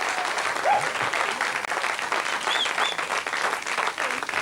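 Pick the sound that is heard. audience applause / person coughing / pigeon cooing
audience applause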